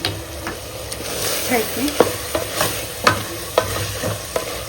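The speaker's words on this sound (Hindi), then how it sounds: "इसको अच्छा भून लेंगे थोड़ी देर।" Keema fries in a pan in a Hyderabad home kitchen with a steady, close sizzle. A spoon stirs and scrapes through it in irregular clacks roughly every half second.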